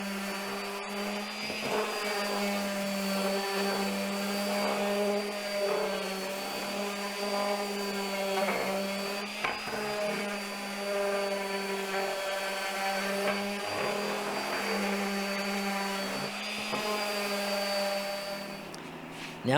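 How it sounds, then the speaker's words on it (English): Electric power sander working over wood pieces with 80 grit sandpaper, a steady loud motor whine with strong harmonics running continuously and close up, no speech. "I'm going to use 80 grit sandpaper to sand down all the pieces"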